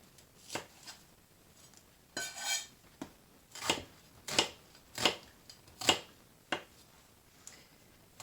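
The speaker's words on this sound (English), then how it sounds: "Chop up my onion." Kitchen knife chopping an onion on a cutting board, about ten crisp, evenly spaced thuds at a steady unhurried pace, close up and fairly quiet, with no talking.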